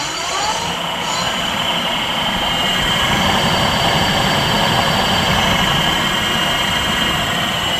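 An electric bike's rear hub motor, on a Billy Goat V2 e-bike lifted off the ground, free spins at high speed, giving a steady loud whirring hum with a rumbling low end throughout and no talk.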